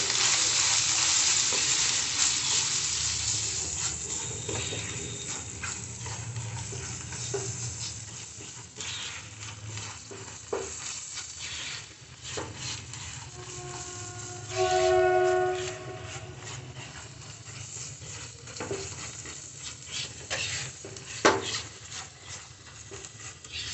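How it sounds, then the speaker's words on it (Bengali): Spice paste with Kashmiri chilli frying and being stirred in a pan for Maharani Begun, an aubergine dish, with a steady sizzle and occasional scraping and clinks of the utensil throughout. "এবার আমি সমস্ত মশলাটাই ভালোভাবে কষিয়ে নেব।"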